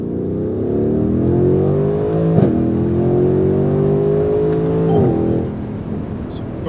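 Mercedes-AMG GLC 63 S Coupe V8 engine and exhaust rev up in a loud, sustained rising drone, with brief shifts or blips near the middle and end before easing off.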